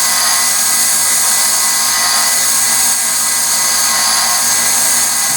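Grinder working a piece of hardened steel, a loud continuous high whine that holds steady throughout with no pauses.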